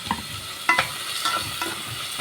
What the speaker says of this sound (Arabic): هنقلبه كده الاول ايه في السمنه كده